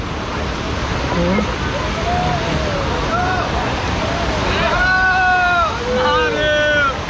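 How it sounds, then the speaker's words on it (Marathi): Water rushes steadily near the Mangeri Mahadev cave in the Ambabarwa sanctuary forest, forming a constant broad roar under voices that rise and fall toward the end. "पाण्याचा खूप आवाज असतो इकडे."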